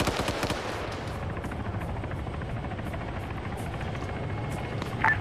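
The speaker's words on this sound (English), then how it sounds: "I hear that helicopter." A video game helicopter's rapid rotor thumping drones steadily and loudly throughout, with sharp gunfire-like bursts layered over it.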